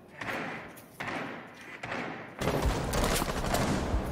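Gunfire in the tactical shooter Rainbow Six Siege, with several sharp thudding bursts of shots, then a sustained louder volley of rapid fire and impacts indoors.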